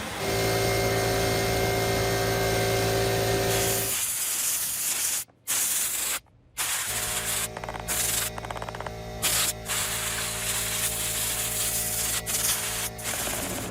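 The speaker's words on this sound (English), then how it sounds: "what I'm gonna do is blow this thing out with my air compressor" An air compressor nozzle blows out a Hoover Twin Chamber UH40145B bagless vacuum cleaner in loud, close, sustained bursts of hissing air, broken by a few short pauses, with a steady hum underneath at the start.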